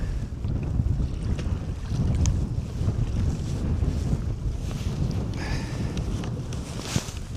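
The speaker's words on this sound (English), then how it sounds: "Oh my god, that wind's really picking up." Strong wind buffets the microphone in a steady, heavy roar on a boat while squid fishing at Flinders, with no speech.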